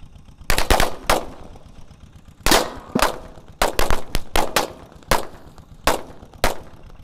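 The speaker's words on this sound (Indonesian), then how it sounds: "kita akan menyalakan mercon korek Galaxy Corsair. Kita nyalakan 1 pak sekaligus, ditutup dengan baskom ya." Sharp bangs from a full pack of Galaxy Corsair firecrackers burst in irregular clusters, loud and close with a hollow, clanging ring under a large basin, with brief gaps between volleys.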